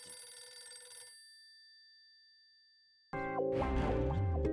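A phone rings with a bright electronic trill that fades into near silence, followed by a sudden burst of loud, dense sound.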